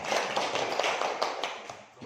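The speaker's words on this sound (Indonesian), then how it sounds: "tepuk tangan buat Haifa" A classroom gives scattered, light applause for a student, a soft patter of claps at moderate distance that fades after a couple of seconds.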